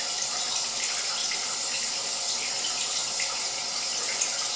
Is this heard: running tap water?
yes